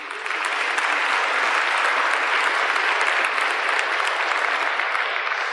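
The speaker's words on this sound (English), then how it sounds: "Won't you give it a round of applause?" Loud, continuous applause from a large seminar audience, a dense even wash of many hands clapping throughout with no talk over it.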